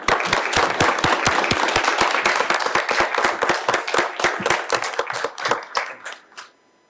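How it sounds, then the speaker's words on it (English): A town council meeting audience claps for several seconds, a dense run of individual handclaps that thins out and fades at the end, with no talk over it. "We'd like to give you a round of applause and a little gift for you tonight."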